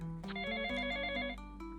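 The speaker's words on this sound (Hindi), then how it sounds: "एकदम से सुची के पापा के फोन पे एक फोन आया।" A mobile phone rings at home during family tea time, a steady electronic ringtone with bright repeating tones that sounds clearly for nearly two seconds and stops.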